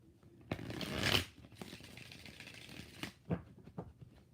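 Tarot cards shuffle in rapid riffling bursts, one long loud riffle followed by several shorter ones, close and crisp, with no talking.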